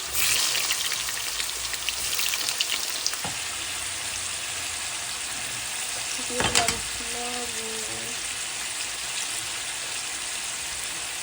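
Onions, spices, garlic paste and onion paste fry in a pan with a constant loud hiss and sizzle, broken by a brief utensil clatter partway through.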